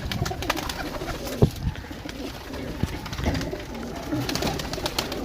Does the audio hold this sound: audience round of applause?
no